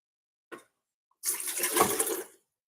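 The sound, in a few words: water being poured for coffee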